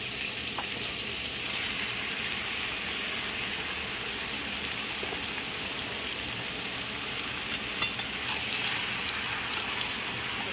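Pasta with a little turmeric sizzles steadily in a hot pan, a dense, even hiss of frying with faint scraping bits throughout, close and continuous, no voices.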